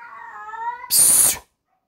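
A drawn-out, wavering cat meow that wails up and down, cut off by a sudden harsh hiss, then silence.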